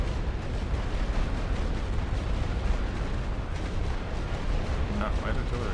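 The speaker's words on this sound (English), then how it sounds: "light artillery is doing a number on these troops here" Continuous dense rumble of a light artillery barrage in the World War I strategy game The Great War: Western Front, thick overlapping booms with no pauses and steady loudness throughout.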